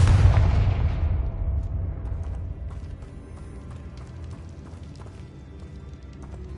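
A Confringo blasting spell in Hogwarts Legacy detonates in one loud, deep explosion at the start, its rumble fading slowly over several seconds with faint crackling afterward.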